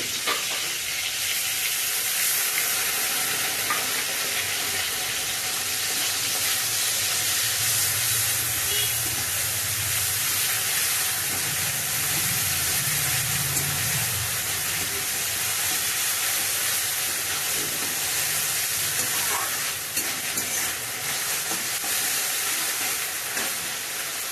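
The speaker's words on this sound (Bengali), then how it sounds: "পেঁয়াজ লাল লাল ভাজা হয়ে গেছে, মশলা দিয়ে দেবো" A ground paste of cumin, ginger, garlic and green chilli fries with reddish-browned onions for a Bombay duck dish, sizzling loudly and continuously up close with occasional stirring.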